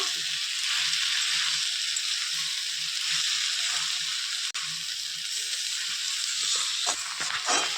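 Malabar spinach with vegetable spice sizzles steadily in a pan, a broad frying hiss with faint stirring scrapes near the end and one brief click midway, close and moderately loud, no voices.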